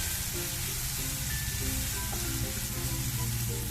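Sliced plantain frying in coconut oil and ghee, a steady dense sizzle that continues evenly and close throughout with no talk.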